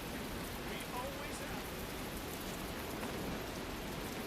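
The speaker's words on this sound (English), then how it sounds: "Why is this rain so fucking loud?" Loud rain in the video game Tales of Berseria, a dense, unbroken wash of hissing downpour that fills the whole stretch at a constant level.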